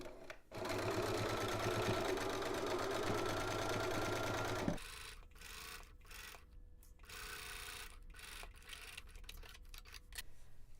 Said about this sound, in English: let's head over to the machine and we're going to edge stitch our pocket down